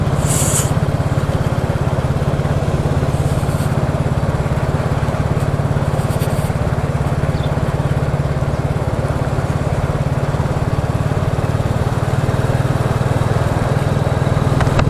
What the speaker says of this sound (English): there's too much wind noise